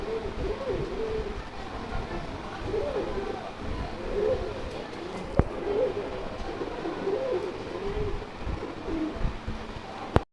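Pigeons on a pigeon farm coo steadily and softly through the whole stretch, a continuous low murmur of several birds at moderate distance, with a brief click near the middle and a sharp knock at the end.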